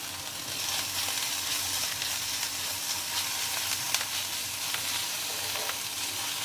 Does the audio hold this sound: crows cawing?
no